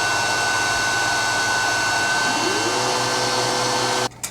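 A WeCreat Vision Pro 45-watt laser cutter works through 1/2 inch plywood in one pass, a loud constant whir of fans and air assist with a faint steady tone, ending abruptly with a brief clunk.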